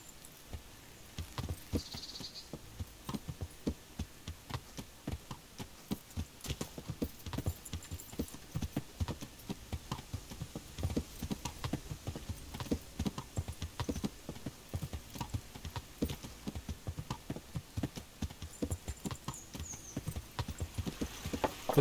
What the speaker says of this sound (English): But for that, I'm going to need the horse.